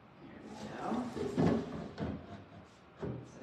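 A wooden drawer slides into a painted dresser with several soft knocks and bumps spaced over a few seconds, close by and moderately loud, with faint background murmur.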